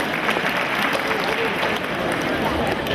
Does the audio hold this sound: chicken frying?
no